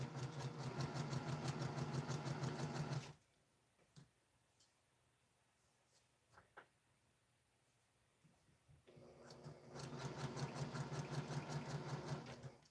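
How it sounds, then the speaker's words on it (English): A sewing machine stitches fabric in two steady, rapid runs of close, loud mechanical whirring, separated by a quiet pause with small clicks and handling noises. "I'm going to keep going and just sew right off into my 1/4 inch"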